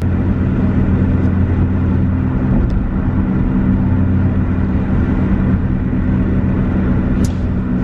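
Steady in-car engine and road rumble from a moving car, constant and loud throughout with a faint brief sound near the end and no speech.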